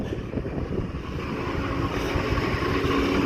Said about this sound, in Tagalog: Ayan ang exhaust fan. Ay, very good, gumagana.